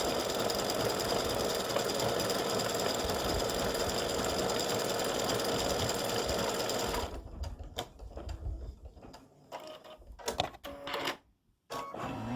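An embroidery machine stitches a freestanding lace snowman design, running with a fast steady mechanical hum and needle chatter for several seconds, then stopping and giving way to intermittent handling noises and short bursts.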